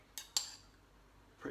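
Tomato salsa mixed in a bowl, two quick sharp clinks of a utensil against the bowl, then quiet, and a softer scrape and clatter at the end.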